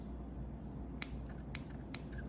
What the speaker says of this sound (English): You guys probably noticed these aren't the sharpest scissors